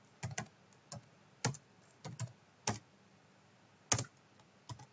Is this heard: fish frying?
no